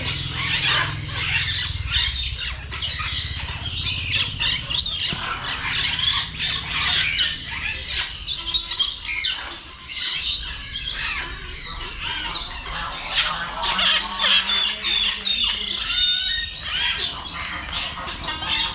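Birds at Essel World bird park in Mumbai squawk and screech loudly and repeatedly in a dense, overlapping chorus, with shrill calls piling up close by throughout.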